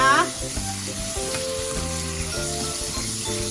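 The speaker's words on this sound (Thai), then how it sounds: "ผัดหมูให้สุกนะคะ" Pork stir-fried in a pan on an electric stove gives a loud, continuous sizzle, with stirring scrapes and a steady hum running under it.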